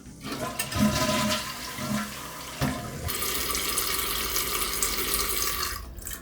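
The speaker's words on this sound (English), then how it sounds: "Then we'll flush it and see what it does." A household toilet with a constantly running fault flushes up close, a gurgling rush followed by a steady hiss of the tank refilling that continues almost to the end.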